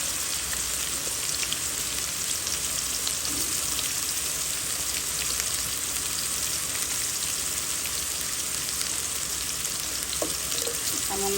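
Beef brain frying in a pan on the stove, with cardamom, cinnamon, bay leaf and onion in oil, a steady dense sizzle that holds evenly throughout without pause.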